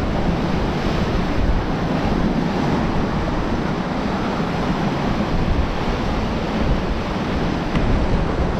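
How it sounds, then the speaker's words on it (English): Big ocean waves crash against coastal rocks, a continuous loud roar of surf mixed with buffeting wind noise, steady and unbroken with no voices. "There's some really big waves coming in."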